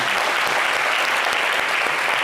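Dense, steady applause from a TV studio audience, many hands clapping continuously at close range with no pauses.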